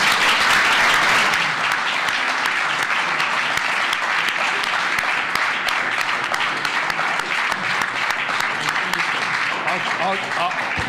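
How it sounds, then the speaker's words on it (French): An audience at a live public talk show in a hall breaks into loud, sustained applause, a dense roar of clapping that holds steady throughout with a few voices mixed in. "Ben voilà, je propose d'applaudir."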